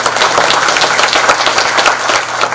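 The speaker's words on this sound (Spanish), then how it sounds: "quisiera pedirles un fuerte aplauso de bienvenida" A conference audience gives a loud, dense burst of welcoming applause, many hands clapping together in a steady crowded roar close by, with no voices over it.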